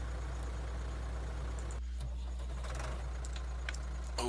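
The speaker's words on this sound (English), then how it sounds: "Alright, so let's get that tractor" A farm tractor engine in the fields of Vojvodina, Serbia, turns over with a low, steady mechanical rumble, a brief catch partway through, then a continuous idle, with no talking.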